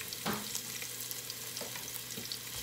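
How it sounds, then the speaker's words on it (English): Onion sizzles in hot oil in a pot on high heat for fried rice, a faint, steady crackle with a few soft stirring scrapes, close and without talk. "We're just gonna let this saute for a few seconds."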